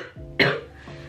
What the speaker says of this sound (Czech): Pardon, mám furt hrozný kašel a rýmu.